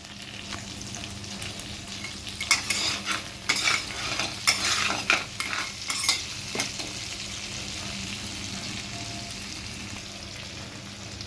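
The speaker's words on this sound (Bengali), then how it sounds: "কাঁকড়া রান্না বসিয়ে দিয়েছি" Crab curry sizzles loudly in a pan as a utensil stirs and scrapes through it in bursts, the frying hiss continuing steadily once the stirring eases.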